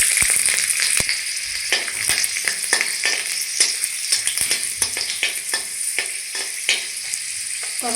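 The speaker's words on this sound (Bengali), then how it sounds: "তো রসুন একটু ভালো করে ভেজে নিয়েছি" Several garlic cloves frying in hot oil in a kadai (wok) for a radish and potato curry, a steady loud sizzle with repeated sharp crackles and pops throughout.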